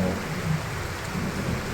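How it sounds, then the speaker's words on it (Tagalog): Very heavy early-morning rain pours down in a dense, steady roar with low rumbling underneath, loud and continuous with no voices. "Grabe yung lakas ng ulan guys."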